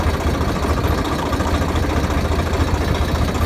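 An 855 tractor engine running in a farm field, a steady, dense mechanical rumble that holds evenly for a few seconds with no talk over it.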